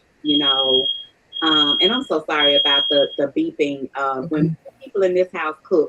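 Steady high electronic beeps sound repeatedly over continuous close speech, a smoke alarm chirping in the background while someone talks.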